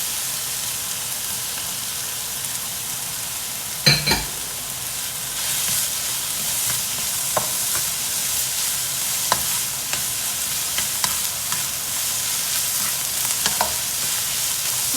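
Carrots stir-fried for American-style Chinese fried rice give a loud, continuous sizzle and hiss, with occasional sharp clacks and scrapes of the utensil pushing them around the hot pan.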